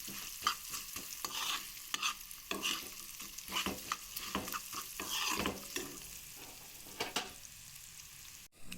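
Onion pieces in a tempering of oil stirred in a pan, with repeated scraping and clattering spatula strokes over a continuous sizzle, close and busy throughout.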